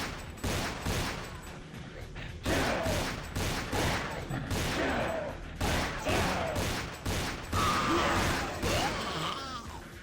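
Rapid gunfire bursts from a modded Vampire: The Masquerade – Bloodlines session (The Final Nights mod), repeated loud volleys over several seconds with groans and crashes mixed in, fairly continuous and dense.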